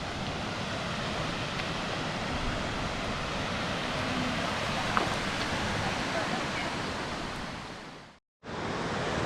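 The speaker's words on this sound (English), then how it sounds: "but here's the American River." The American River flowing beside a campground, a steady, full rushing wash of water heard up close without a break, cutting out briefly near the end.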